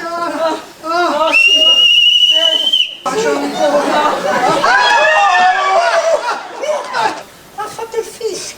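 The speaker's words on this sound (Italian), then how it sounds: "Ha fatto il fischio lui." A person gives a long, steady, high whistle in a stage comedy, surrounded by chatter and laughter from others.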